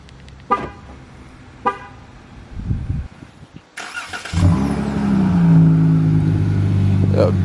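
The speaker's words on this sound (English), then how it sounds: "Let's get a little start up the car." A car engine cranks and catches, then settles into a loud steady idle up close, preceded by a couple of short horn toots and door or handling noises inside the car.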